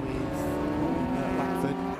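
TCR touring race cars at a race at Donington, engines droning steadily and close as cars run in traffic; a commentator talks over the continuous engine noise.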